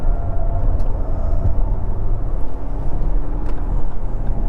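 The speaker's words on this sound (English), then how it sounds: "All right, getting on the interstate now." A 2023 Lexus RX 500h hybrid SUV on all-season tires merges onto the interstate, with a steady, loud rush of road and engine noise throughout and no talking.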